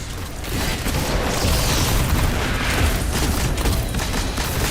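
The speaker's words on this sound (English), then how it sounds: "Grenade!" Grenade explosion in the video game Destiny: a loud, rumbling burst that swells and holds for several seconds amid crackling game noise.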